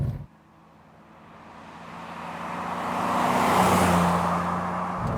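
Inline-six engine of a 1998 BMW E36 328i Sport heard from inside while driving, a steady drone that swells gradually as the car accelerates, mixed with road and wind noise.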